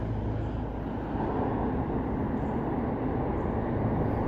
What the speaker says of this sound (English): This is where the train emerges, kind of like a dragon coming out of its den.